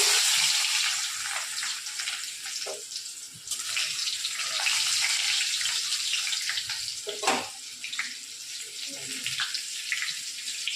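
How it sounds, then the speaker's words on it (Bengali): Dried red chillies sizzle in leftover oil from frying chicken, a steady hiss with crackling bursts throughout, fairly close. "আমরা যে অয়েলের মধ্যে চিকেনের ওটা ফ্রাই করলাম, সেই তেলের মধ্যে আমরা দিয়ে দিব কয়েকটা শুকনো লঙ্কা"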